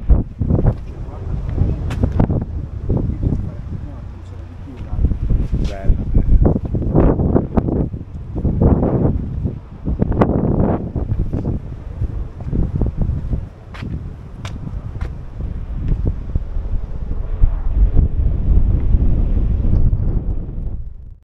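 Strong wind blowing high up in an abandoned Italian villa, a continuous buffeting rush with low rumbles that swells and eases across the stretch, with voices talking intermittently over it.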